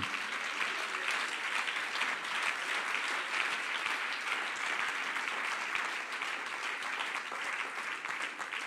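A church congregation applauds during a sermon, a steady, fairly soft and even clapping that carries on without a break and with no voice over it.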